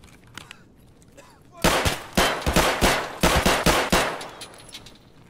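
A modded P226 pistol fired in Escape from Tarkov: after a quiet start, a fast string of about ten loud, close shots rings out in quick succession, then the firing tails off.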